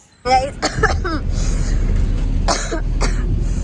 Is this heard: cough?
yes